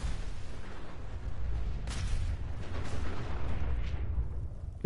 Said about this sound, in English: They probably think I'm crazy hearing all those explosions up there.